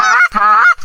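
Loud, close goose honks during a goose hunt, two drawn-out nasal calls in quick succession with no talking.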